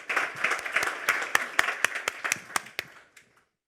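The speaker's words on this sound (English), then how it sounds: "please applause for Daisy Christodoulou" Debate audience claps for a speaker introduced for the motion, a short burst of applause that thins to a few scattered individual claps and fades out.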